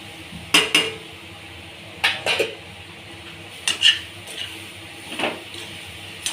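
Soybeans being stirred and tossed in a pan, giving scattered metallic scrapes and clinks of a spatula against the cookware in irregular bursts at moderate volume, with no talking.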